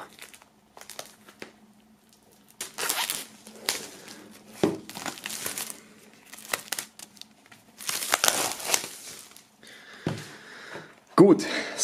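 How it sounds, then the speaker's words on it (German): Plastic shrink-wrap foil is peeled and crinkled off an Eminem Recovery vinyl LP from 2010, in bursts of close crackling and tearing with pauses, under occasional speech. "Wir werden das Ganze mal aus der Folie holen"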